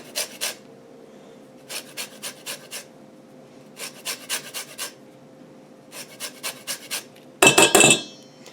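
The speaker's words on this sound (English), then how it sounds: "I'm going to zest off maybe a teaspoon's worth of lemon zest." A small zester rasps over a lemon peel in short groups of quick scraping strokes, four or five at a time with pauses between, close and crisp, followed by a brief louder clatter.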